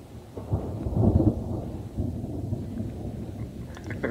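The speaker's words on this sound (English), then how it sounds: "we've got thunderstorms rolling in" Thunder from an approaching thunderstorm during a sika deer hunt in the rut, a low rumbling roll that swells and fades across several seconds with outdoor ambience.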